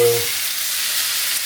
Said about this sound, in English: obviously the pan's sizzling